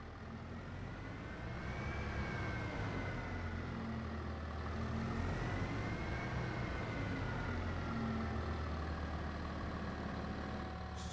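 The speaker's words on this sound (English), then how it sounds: "Then we're going to put the tractor in" Steady low drone of a tractor engine in Farming Simulator 25 as it rolls into a shed, a continuous hum with a slowly wavering tone and no talk over it.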